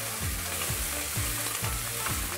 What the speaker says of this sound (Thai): เราจะทำการผัดนะครับทั้งเม็ดมะม่วงหิมพานต์แล้วก็ดอกกระหล่ำครับ